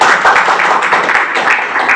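A nearby audience at a church gathering breaks into loud, fast, dense clapping, a continuous close patter of many hands with no voices.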